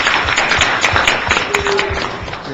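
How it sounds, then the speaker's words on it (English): A committee room crowd gives a round of applause for committee chair Tom LaBonge, with dense, steady clapping through the whole stretch and some faint voices underneath. "Everybody give the chair of this committee, Tom LeBonge, a round of applause."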